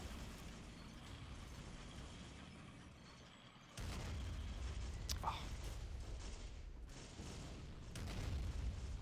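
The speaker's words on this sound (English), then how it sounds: "Some really nice explosions and effects in this game." Battlefield explosions and artillery rumble through a World War I game, Battle of Empires: 1914-1918, set at Cambrai, with a dense continuous low roar, a louder burst near the middle and a brief exclaimed voice.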